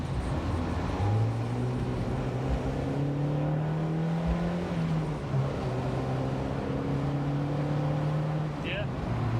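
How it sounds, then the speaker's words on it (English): A Mazda MX5 mk1 engine revs with a steady drone that rises and falls in pitch across several swells, loud and close, with occasional voices nearby. "See if it does rev a bit more freely."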